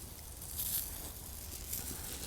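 Aubergines sizzle on a hot grill while being pressed down, giving a soft, steady hiss and crackle with faint higher fizzing bursts, continuous and close.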